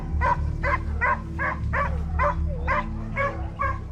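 Hunting dogs bark in a quick, evenly spaced series of about nine yelping barks during a chase, steady and moderately close over a low rumbling background.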